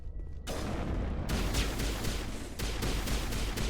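Sniper and weapon fire rings out in the Mass Effect video game as dense, loud, broadband blasts with a few sharper shots over a constant roar of battle, with no talking.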